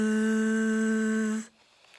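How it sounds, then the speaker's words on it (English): A bumblebee buzzing in one steady, even drone that holds for over a second and then cuts off, clear and alone. "Buzz. That's the sound of a bumblebee."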